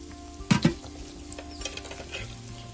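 Chopped garlic drops into hot oil with a sharp double splash, then a quiet, steady sizzle of frying as the cooking goes on.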